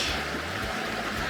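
A backcountry creek in Golden Gate Canyon State Park flows in a steady, close broadband rush of moving water, with no talking over it.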